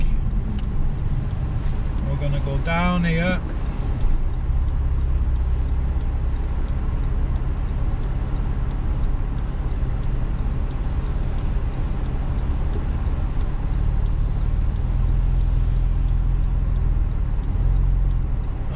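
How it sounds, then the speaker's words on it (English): Traffic on a busy main road in Bolton, heard from inside a moving Honda Civic as a steady, loud low rumble of engine and tyre noise, with someone speaking briefly near the start. "There's always traffic."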